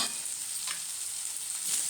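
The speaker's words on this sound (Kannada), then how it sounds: "ಎಲ್ಲ ತರಕಾರಿನೂ ಕೂಡ ಸ್ವಲ್ಪ ಎಣ್ಣೆಯಲ್ಲಿ ಬೆಂದಿದೆ" Carrot, beans and capsicum frying in oil for rava pulao, a steady soft sizzle with faint stirring throughout, close and continuous with no talking.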